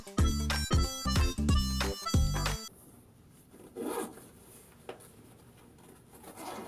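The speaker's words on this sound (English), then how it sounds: "Feels like some quality zippers." A zipper on a hot stone heater kit is zipped back and forth several times in quick, rasping strokes, followed by quieter handling noises.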